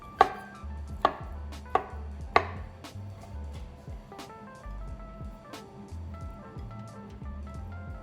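A knife chops vegetables into big cubes on a cutting board for a vegetarian poke bowl. Sharp, fairly loud strikes come first in a quick run of four, then lighter, irregular knocks follow.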